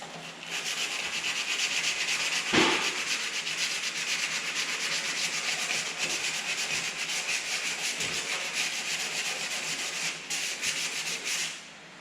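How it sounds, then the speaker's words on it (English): 180 grit sandpaper rubs back and forth over a flat section of a wooden door, a continuous close scratchy sanding with brief pauses near the end. "This is 180 grit sandpaper I'm using right now. Trying to get that flat part down smooth."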